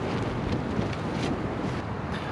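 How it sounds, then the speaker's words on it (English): High wind gusting around a cheap tent at a night-time stealth campsite, a steady broadband roar that swells and eases without letup and with no talking. "The wind keeps coming and going."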